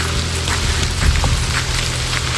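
A steady, soft hiss of light drizzle falls continuously at Sita Gangula on the Adam's Peak trail, with faint patters of drops against a low background rumble.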